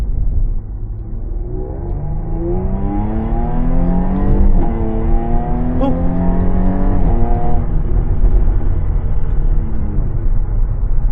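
A Jaguar F-Type fitted with a throttle controller accelerates, its engine rumbling loud and close with a steadily rising pitch, a brief shift around the middle, then climbing again before settling.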